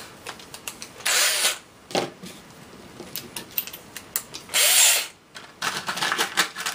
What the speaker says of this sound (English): And we run another wood screw in the end.